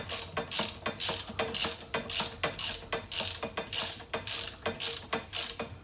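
A hand ratchet clicks rapidly in steady repeated bursts, loosening a small 13mm nut on the handbrake of a BERG BFR Black Edition go-kart, close and crisp with no talk.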